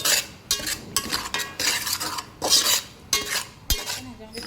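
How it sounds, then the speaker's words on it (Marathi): Semolina being dry-roasted in a pan for besan ladoos, with repeated scraping and clinking strokes of a spoon against the pan in an uneven rhythm, close and fairly loud. "मी आता रवा भाजून घेऊया"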